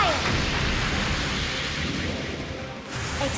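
Mech artillery fire in Trails of Cold Steel 4, a dense continuous barrage of booming blasts and roaring bursts at steady loudness throughout.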